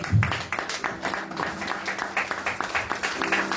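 A church congregation at a French-language service applauds and cheers for God. Continuous clapping mixes with raised voices and keeps a busy, energetic texture throughout.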